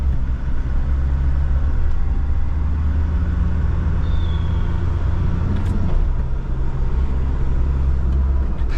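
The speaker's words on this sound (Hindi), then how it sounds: "आवाज सुन रहे हो आप इंजन की?" A converted Mahindra Scorpio Classic diesel engine idles with a steady low rumble throughout, close and continuous, with faint background noise and no talk.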